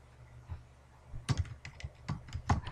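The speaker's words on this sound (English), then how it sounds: "So I'll just type in" Quiet, close typing on a computer keyboard, with a few scattered soft keystrokes followed by a short quicker run of clicks.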